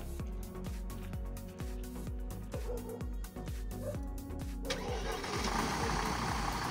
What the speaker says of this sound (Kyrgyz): Эми сиздерге биз спринтерди оталдырып, дагы мотор жагындагы тартып көрсөтөлү.